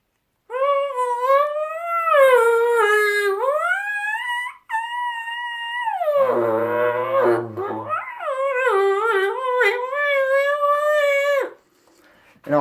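Diaphragm turkey mouth call blown through its reed, producing loud sustained wavering tones that rise and fall in pitch, with raspy growled yelps in the middle, alone without talk.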